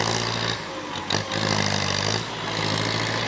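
A Kubota L4708 tractor engine drones steadily at close range while pushing soil, a constant loud rumble with a brief surge midway.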